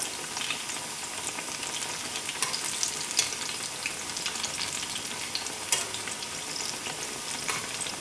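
Plantain slices fry in a pan as they are turned over one at a time, giving a loud, steady crackling sizzle with scattered sharper pops. No talking is heard.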